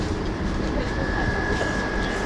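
A tram rolls past on a Warsaw street, a loud, steady rumble with a sustained high whine from the wheels, continuous and close throughout the short stretch.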